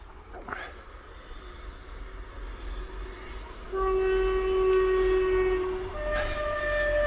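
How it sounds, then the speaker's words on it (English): A train passes near a camping tent, with a constant rumbling roar building up and a long horn blast sounding, loud and close. "Excuse the train going past."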